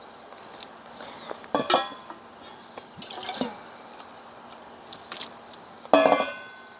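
Cup being rinsed with water while making herbal tea, with short splashes, drips and a few light clinks of the cup, separated by quiet gaps, close by.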